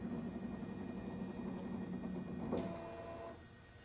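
Embroidery machine running slowly on an outline stitch, a steady mechanical whir and hum that continues throughout, then eases off toward the end after a brief change in tone.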